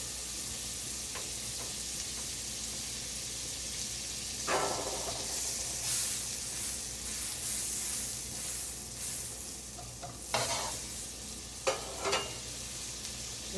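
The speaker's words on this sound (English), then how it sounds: "Now I'm going to add 1 tablespoon butter." Butter sizzling and frying in a pan for pav bhaji, a steady soft hiss with occasional louder crackling bursts and stirring scrapes, no talking.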